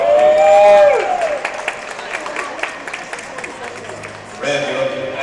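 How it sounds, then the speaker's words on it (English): An audience applauds at a workplace Halloween costume parade as a woman dressed as a geisha is introduced. A voice speaks over tonal sounds at first, then a steady patter of clapping runs for about three seconds before talk resumes. "Big round of applause."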